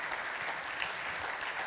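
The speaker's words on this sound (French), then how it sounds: "si vous voulez applaudir, on peut applaudir Melba Roy Mouton" Audience clapping at a conference talk, a steady, dense wash of applause heard from within the hall and fairly quiet, with no speech over it.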